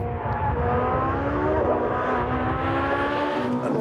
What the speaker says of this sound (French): C'est incroyable la sensation d'accélération qu'on a dans cette 458 Italia.